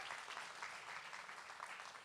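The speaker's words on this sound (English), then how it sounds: "give her a round of applause." Sustained applause from a pitch-competition crowd after a $10,000 award, a dense, steady wash of many hands clapping at moderate distance without a break.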